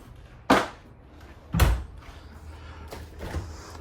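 An RV's 12-volt DC compressor-driven refrigerator door in a 2025 Brinkley Model Z 3400 gives two sharp close thumps about a second apart, then fainter rattles and clicks at close range.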